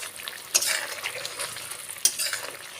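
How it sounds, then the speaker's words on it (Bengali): Egg stirred into curry gravy with garam masala for a simple egg curry: a steady close sizzle with spoon scraping through the pan and a couple of sharper clinks. "ভালো করে আমি ঝোলের সঙ্গে মিশিয়ে নিচ্ছি ডিমটা"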